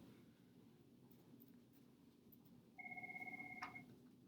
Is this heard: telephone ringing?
yes